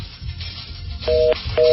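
Telephone dialing tones on a radio call-in show, two short steady dual-pitch beeps near the end over a low hum of studio background.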